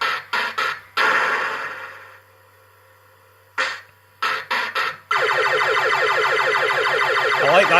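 Bellfruit Silver Reels fruit machine sounding off with electronic beeps and tones: short choppy bursts, a pause, more bursts, then a steady warbling, siren-like melody that runs loud and continuous to the end, with no talk.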